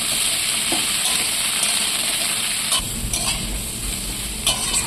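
Pieces of young green jackfruit frying in a pan, a steady close sizzle and hiss with occasional spatula scrapes and stirring knocks, a heavier rumble of stirring in the latter half.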